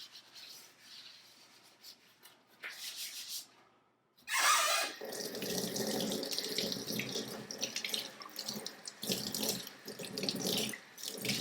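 Running tap water splashes over an intaglio printing plate as it is rinsed in a sink, a steady close hiss broken by a short pause, then a louder, fuller gush with rubbing and shifting of the plate.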